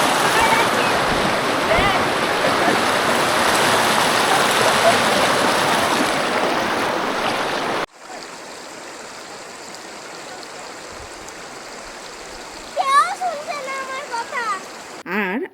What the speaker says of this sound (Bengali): আর এই নদীর স্রোতের সাউন্ড